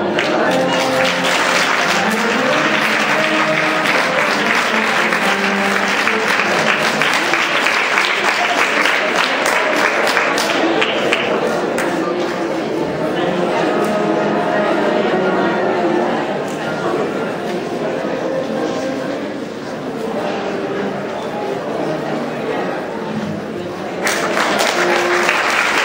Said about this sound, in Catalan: Anem a rebre en un fort aplaudiment a Juan Lozano